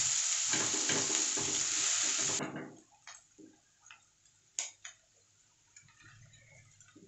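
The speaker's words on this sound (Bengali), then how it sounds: "কুচনো পেঁয়াজটাকে নাড়াচাড়া করতে থাকবো।" Chopped onions fry in a pan with a strong, close sizzle that cuts off after a couple of seconds, followed by scattered scraping and tapping clicks as a spoon stirs them.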